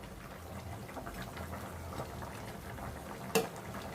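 A pot of country chicken curry seasoned with garam masala simmers, bubbling softly and steadily at low level, with one brief sharper clink near the end.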